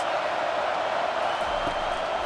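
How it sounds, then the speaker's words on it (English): A steady, even roar from a stadium crowd cheering in the College Football 25 video game, sustained and fairly loud throughout with no distinct peaks. "Big third down as the crowd gets behind this defense."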